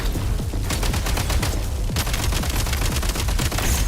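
Sustained rapid gunfire from a Genshin Impact battle, dense bursts of shots rattling continuously and loudly, with a brief gap near the middle before the firing resumes just as heavily.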